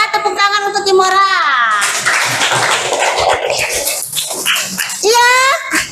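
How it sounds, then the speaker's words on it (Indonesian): Applause breaks out for Imora at a school-style gathering, a dense wash of many hands clapping for several seconds, with a voice speaking just before it and again as it fades. "Tepuk tangan untuk Imora"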